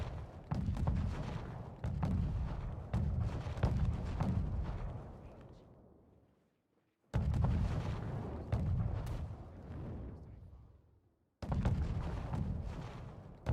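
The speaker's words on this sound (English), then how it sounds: "All the mortars still fighting" Mortars fire in a strategy video game as a series of deep booming blasts, each followed by a fading rumble, in three separate bursts with brief silences between them.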